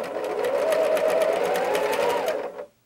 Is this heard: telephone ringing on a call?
no